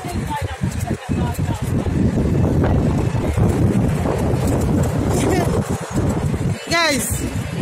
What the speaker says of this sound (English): the breeze is just so much